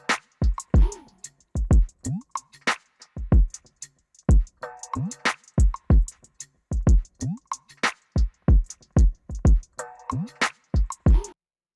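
Soloed drums from a hip-hop beat: sharp kicks, snaps and hi-hat ticks in a bouncy, syncopated pattern with pitched percussive blips, punchy and dry, no voices.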